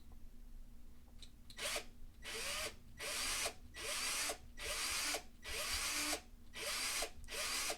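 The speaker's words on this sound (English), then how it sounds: "So let's go ahead and drill this guy." A power drill drills out a rivet on a toy die-cast car in repeated short bursts, roughly six, with grinding metal between brief pauses and a low hum underneath.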